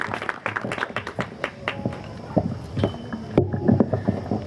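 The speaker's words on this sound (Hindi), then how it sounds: "तालियां।" Applause rises from a children's Ram Leela stage show audience, a crowd of uneven, scattered claps that keep going throughout, moderately loud in a reverberant hall.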